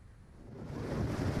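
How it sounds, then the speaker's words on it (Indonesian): Strong wind gusting through villages in Kudus, Central Java, a broad roaring rush that builds steadily over the moment, loud and close, with no voices. "Angin kencang, Lur."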